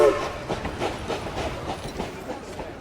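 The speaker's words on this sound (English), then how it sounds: "The train was already pulling into the station." A train rolls into a station with an even clickety-clack of wheels over rail joints. A brief horn-like tone comes at the very start, and the train sounds moderately loud with no talk over it.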